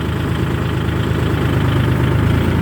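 A heavy tractor engine, a stuck tractor with the gear not engaging, runs loud and close, a steady rumbling idle with a throbbing low knock throughout.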